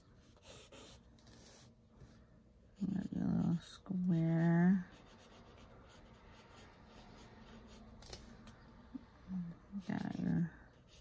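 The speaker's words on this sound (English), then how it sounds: "Oh, look at that. I drew a lamp." Pencil scratching and rubbing across paper while sketching a lamp with a shade, soft close strokes running throughout with a person talking intermittently over them.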